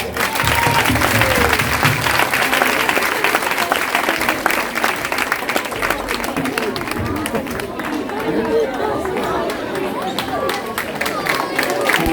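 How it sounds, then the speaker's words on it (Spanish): A school audience at the IES O Couto Christmas festival in 2022 applauds loudly and continuously, close and full, with crowd noise mixed into the clapping throughout. "Un fuerte aplauso para ella."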